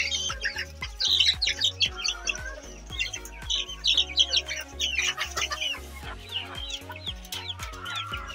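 Silkie hens cluck and squawk at feeding time, with busy overlapping calls in bursts over soft pecking and shuffling, fairly close by.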